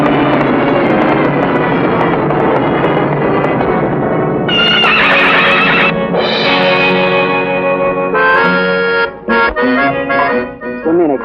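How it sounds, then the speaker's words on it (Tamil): A horse neighs loudly and close, with long, shrill whinnies that rise and fall, followed by shorter broken bursts and a hint of echo. "இது என் குதிரை, ரொம்ப பொல்லாத குதிரை"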